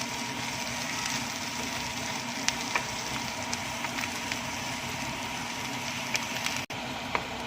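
Onion frying with browned garlic in a pan gives a continuous, fairly loud sizzle with scattered pops and crackles; no one speaks.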